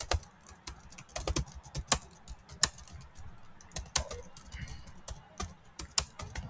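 Typing on a computer keyboard, close and crisp, with irregular bursts of individual key clicks and short pauses running throughout, no voices.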